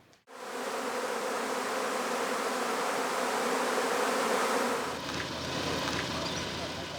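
A dense swarm of honeybees hums loudly around a beehive in the evening as the bees return, a steady close buzzing that cuts in abruptly and thins slightly near the end, with a voice faintly present.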